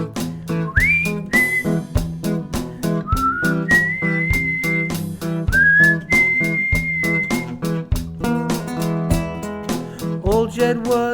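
A man whistles a melody along to a song about Old Jed, bright sustained and gliding notes over a steady rhythmic accompaniment with clear beats, loud and close.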